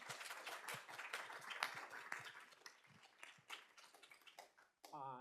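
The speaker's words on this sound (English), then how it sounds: "So maybe a round of applause for Brent is in order." Audience applause at a vision science symposium: scattered, fairly sharp claps from a modest crowd that thin out and fade over a few seconds, with a voice starting right at the end.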